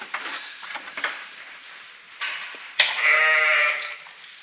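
Lambs in a farm pen bleat loudly and close by, several overlapping wavering cries, the last one long and shaky, with light shuffling between calls.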